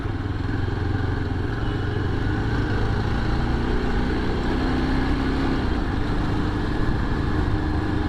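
A motorcycle engine drones steadily and loudly throughout while riding, a constant close rumble with no pauses and no talk over it.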